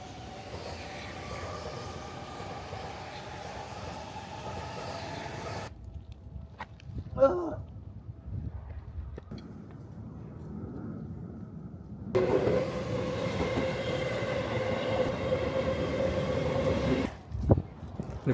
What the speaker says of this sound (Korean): 뒤에 기차가 지나다니면 좀 예쁠 것 같아가지고 기다리고 있는데